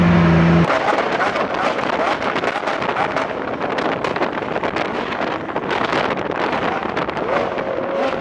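A Lamborghini drives at night in Los Angeles, its engine roaring loudly and continuously with rough, crackling bursts under heavy wind rush.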